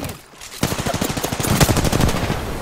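Rapid automatic gunfire in Apex Legends, a dense stream of fast shots that starts abruptly and keeps going, loud and close with no talking.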